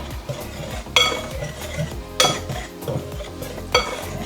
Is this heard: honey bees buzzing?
no